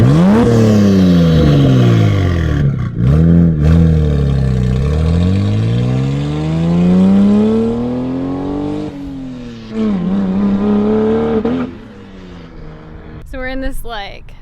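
Lexus fitted with a 1JZ engine running outdoors in an echoey business park, its exhaust note rising and falling through revs with a brief blip near the end, while voices talk over it.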